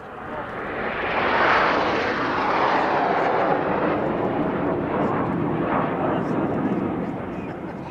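An aerobatic display aircraft's engine drones steadily as it flies a difficult shape, sometimes inverted, a loud continuous roar that swells and recedes slightly, with a commentator talking over it.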